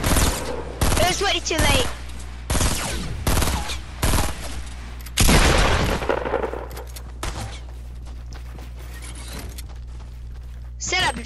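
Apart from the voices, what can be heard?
gunfire in Fortnite video game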